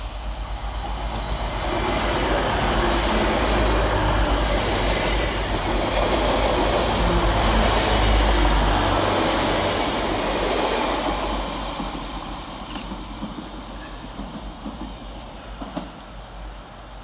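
A passenger train, Class 185 units 185148 and 185147, rumbles past at Woodsmoor station, its roar swelling and then fading, with faint wheel squeals and clicks as it slows.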